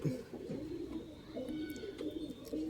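Bazai pigeons cooing in a steady run of low, throaty calls, close by and moderately loud, with faint chirps high above and no clear talk.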